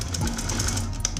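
Sewing machine stitching a small placket on a senator top, a short burst of rapid even mechanical chatter, close and moderately loud.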